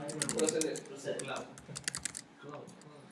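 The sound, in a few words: typing a new password on a computer keyboard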